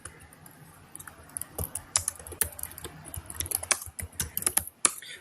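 Someone types on a computer keyboard, giving a close run of uneven key clicks that starts sparse and speeds into a busy patter, with no voices.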